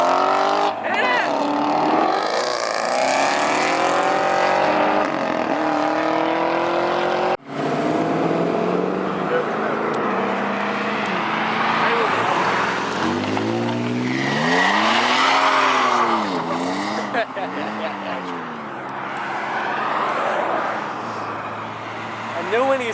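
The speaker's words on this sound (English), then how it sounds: "Do a burnout!" Car doing a burnout at a car show cruise, loud sustained engine roar with rising and falling tire squeal, spectators talking and shouting over it.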